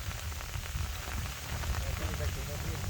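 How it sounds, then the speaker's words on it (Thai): Steady rain pours down outdoors during a stormy day at a rice-planting field, a dense, even hiss of drops on surfaces that continues throughout. "วันนี้ฝนตก"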